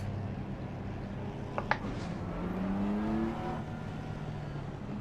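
A race car engine in Assetto Corsa Competizione drones steadily at moderate level, rising slightly in pitch midway, with a couple of brief clicks early on.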